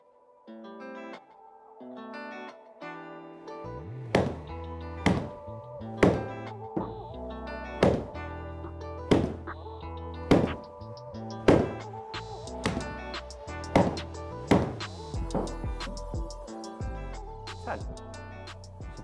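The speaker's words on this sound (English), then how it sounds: "So I'm going to hit 10 shots with a brand new wedge" A golf ball struck with a brand new wedge, about ten crisp, loud impacts spaced at fairly regular intervals over a continuous tonal background.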